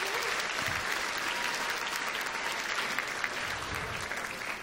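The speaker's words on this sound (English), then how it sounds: "Can we get a round of applause for all of you?" Dense, sustained applause from a gala audience at a charity fundraiser, filling the room evenly from start to finish without a break.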